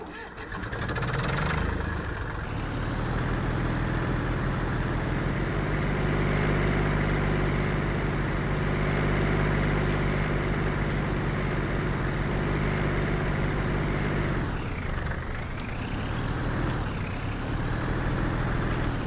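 A modded tractor engine in the farming game Landwirtschafts-Simulator 19 (LS19) runs steadily at a loud, close idle with a low droning hum, with a brief dip in the sound about three quarters of the way through.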